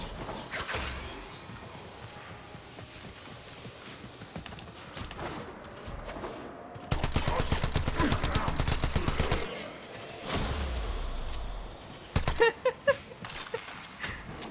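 Automatic pistol fire in a video game, a long sustained burst of rapid shots in the middle, then a few short bursts and single shots later, all over steady background game noise.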